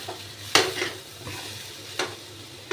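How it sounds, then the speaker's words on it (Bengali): Papaya slices frying and being stirred in a pan in a home kitchen, with soft continuous sizzling broken by a few sharp scraping stirs. "এই সে পেঁপে ভাজি আমি করছি"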